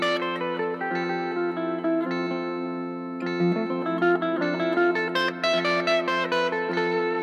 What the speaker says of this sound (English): And that sound is the Lydian sound.